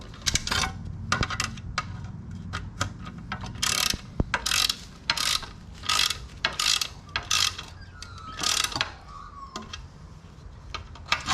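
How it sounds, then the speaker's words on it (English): A hand ratchet tightens nuts on a CV guard being fitted to a Yamaha side-by-side, producing close, loud repeated bursts of rapid clicking in a steady back-and-forth rhythm, with an occasional metallic clink and no speech. "And we can just do those guys up with our shift, with our ratchet"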